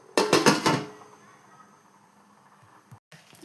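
A lid clatters onto a pot of boiling rice (1 kg of rice in 10 glasses of water) for ghee rice. A few quick, close clanks are followed by a faint, quiet simmer.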